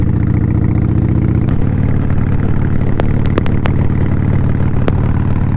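A BMW GS motorcycle engine running at low throttle around 2200 to 2500 RPM gives a loud, steady, close drone, with a slight shift in tone partway through and a few brief clicks, and no one speaking.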